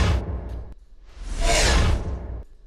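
Zoom whoosh sound effect previewed in Premiere Pro: a brief airy burst, then a longer rising and falling swoosh that swells loud in the middle and tails off, heard alone.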